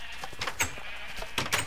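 Sheep in the video game Minecraft bleat in a few short wavering calls over a steady hissy background, fairly close and moderate in level.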